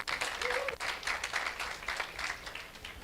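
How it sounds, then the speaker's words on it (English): A room of people applauds the Public Safety Committee at a community meeting, lively clapping that rises and dips over a few seconds, with a brief voice heard beneath it. "if you would please give the Public Safety Committee a round of applause"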